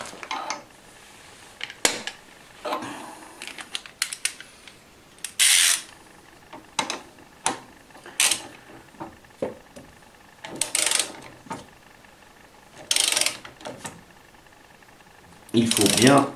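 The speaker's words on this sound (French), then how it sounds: "Vous n'avez maintenant plus qu'à serrer cette vis afin d'extraire votre stator d'allumage." Extractor screw being tightened to pull the ignition stator off a scooter such as a Typhoon, Stalker or Zip, with repeated ratcheting metal clicks and scraping bursts in uneven rhythm, close and fairly loud.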